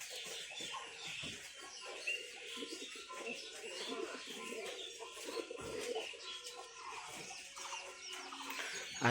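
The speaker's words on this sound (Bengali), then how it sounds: "এইদিকে আমার মুরগিগুলো চলে আসছে খাওয়ার জন্য" Chickens cluck and murmur nearby as they gather to feed, with soft cooing from pigeons mixed in, a busy, moderately quiet yard of bird calls with faint voice-like sounds.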